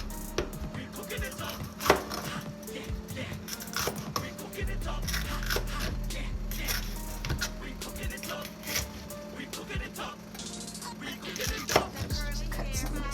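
Food chopped with a knife on a small chopping board while making spaghetti, a fast irregular run of close wooden knocks and taps that continues throughout the clip.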